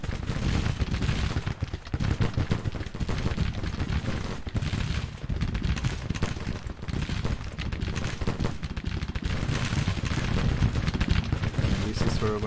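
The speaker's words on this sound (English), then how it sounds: "they should be in range to fire the cannons" Repeated booming cannon blasts and heavy gunfire crackle in dense, rapid succession in a Civil War strategy video game, loud and continuous throughout.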